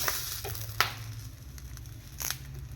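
A steady, close sizzle hisses as jumbo prawns cook in a hot dry pan without oil, broken by a few brief crackles and pops, with no voices.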